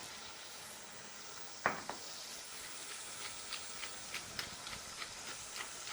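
Clams cook and foam up in a pan, giving a faint, steady sizzling hiss with a single louder clink and small scattered pops and ticks.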